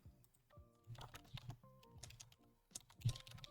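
Fingers type on a computer keyboard at close range, producing quiet, irregular bursts of key clicks and taps with short pauses between them, and no one speaks.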